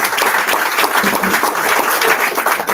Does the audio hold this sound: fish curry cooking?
no